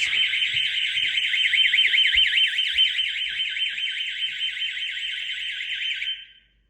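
A loud SimpliSafe Gen 3 home security system alarm siren warbles rapidly and continuously for about six seconds, then cuts off abruptly.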